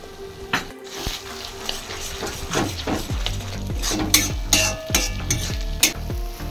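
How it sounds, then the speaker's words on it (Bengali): Egg tadka ingredients fry together over a high flame, a steady sizzle under repeated clinks and scrapes of a spatula stirring against the pan, loud and close with no talk. "বাদবাকি যা জিনিসগুলো ছিল সব একসঙ্গে এবার ফ্রাই হচ্ছে হাই ফ্লেমে একদম।"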